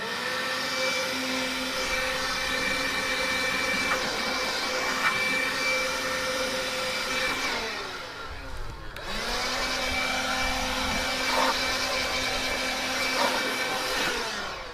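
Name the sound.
blower clearing ash out of a cylinder wood stove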